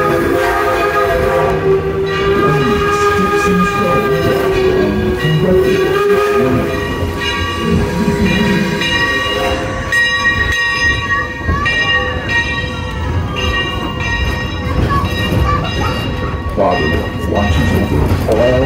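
A Greenfield Village Halloween Express train rolls along the tracks, its loud steady rumble joined by sustained whistle or horn tones that rise and shift, with no one talking.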